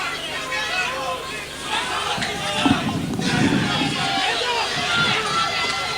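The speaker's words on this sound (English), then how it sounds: "the crowd." Boxing crowd at a light-cruiserweight bout reacting in a loud, steady roar of many voices, swelling briefly in the middle and holding throughout, with no clear individual speech.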